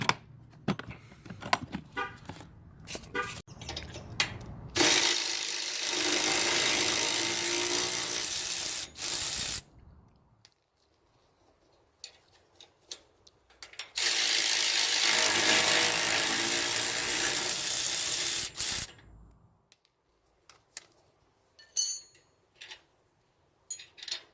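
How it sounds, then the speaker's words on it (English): A ratchet fitted with a 15/16 socket loosens trailer bolts. Two long stretches of loud, steady mechanical whirring are separated by quieter clicks and handling noises close by. "let's start by removing these two bolts. We need a 15/16 socket."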